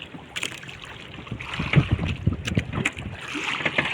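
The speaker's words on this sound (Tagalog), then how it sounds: "Ito, malakas ang hangin." Strong wind at sea buffets the microphone on a small fishing boat, gusting in rough, swelling bursts, with water sloshing beneath.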